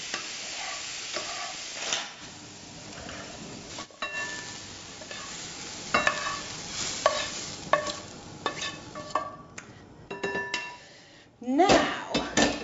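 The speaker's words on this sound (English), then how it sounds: "we can get the mushrooms frying rather than stewing" Mushrooms frying in butter in a pan for beef stroganoff, a soft steady sizzle with repeated stirring scrapes and utensil clicks against the pan, close and fairly quiet.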